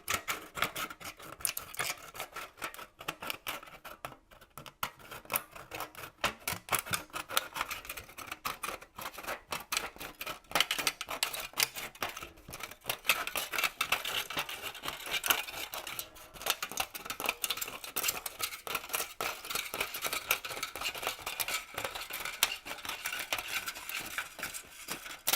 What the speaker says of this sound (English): the first thing that they'll do is cut out the outside edge.